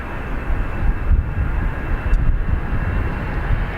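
Jet airliner departing Dublin Airport, a steady loud roar of engines heard from a distance, with a broad continuous rumble that holds throughout.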